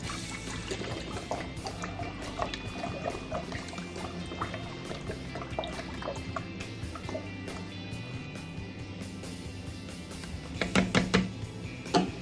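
China Lily soy sauce glugs and trickles steadily from the bottle into a jerky brine, close and fairly quiet, ending in a few louder sloshes and knocks, with no talking.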